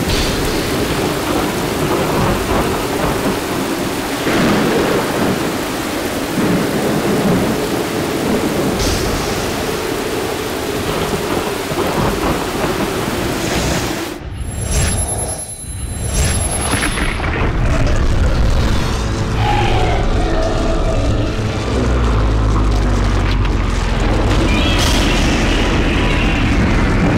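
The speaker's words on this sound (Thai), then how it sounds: "ทำไมมีทั้งฝนมีทั้งพายุอย่างกับฟ้าพิโรจน์ขนาดนี้" A thunderstorm with steady heavy rain and rolling rumbles of thunder, loud and close throughout, with a brief dip midway before the downpour surges back, no voices heard.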